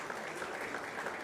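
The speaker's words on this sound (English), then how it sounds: "we give a big round of applause to her also." At a college convocation ceremony, a crowd in a hall claps in a dense, steady round of applause, heard from a distance at moderate volume.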